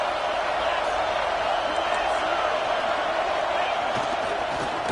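A dense, steady roar from a stadium crowd cheering at an NCAA college football game between plays, a continuous wash of many voices with no breaks.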